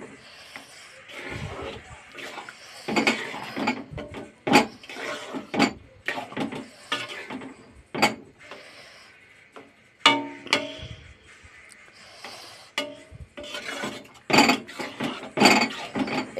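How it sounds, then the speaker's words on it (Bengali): A pot of curry with coriander leaves being stirred, with repeated scraping and clattering strokes of a spoon against the pot at an irregular rhythm, loud and close. "একটু নেড়ে দিই।"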